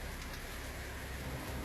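Steady rain pours down during a lightning storm, a dense continuous hiss close by with no breaks and no voices.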